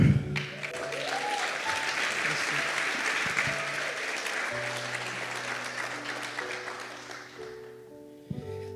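A church congregation applauds during a service, a broad, sustained round of clapping with organ or keyboard chords sounding underneath, tapering off near the end.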